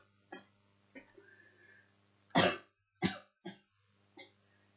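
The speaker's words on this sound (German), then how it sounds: "Mist, Husten." Several short coughs in a quiet room, one strong burst followed by a few smaller ones, close to the listener.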